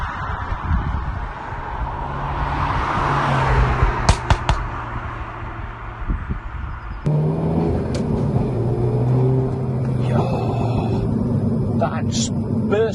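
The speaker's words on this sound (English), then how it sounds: "Burst of acceleration, you lift off, the popping, the banging" A Renault Megane RS Trophy-R front-wheel-drive hot hatch accelerates hard, its engine a loud, continuous roar that shifts character partway through and carries on steadily to the end.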